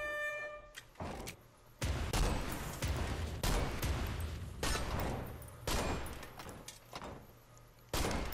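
Gunfire rings out in the video game Deer Hunter 1944, a series of loud, sharp shots, each dying away in a long tail, spaced about a second apart.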